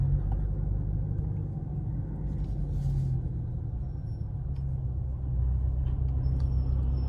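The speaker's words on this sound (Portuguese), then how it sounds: "Esse barulho de freio do caminhão." A truck's air brakes heard from inside a RAM Rampage R/T 2.0 T 2025 on the road: a steady low rumble of traffic and engine noise with a brief hiss of brakes partway through, moderately loud, no talking.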